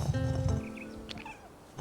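A cat meows in the video game Chants of Sennaar, a short tonal call over low rumbling game ambience, followed by a few fainter chirps and rustles.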